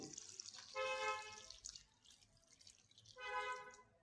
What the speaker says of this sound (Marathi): याच्यामध्ये पाणी घ्यायचं.